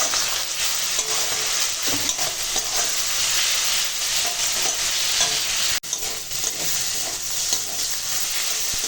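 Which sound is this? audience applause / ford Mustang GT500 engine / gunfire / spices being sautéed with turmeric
spices being sautéed with turmeric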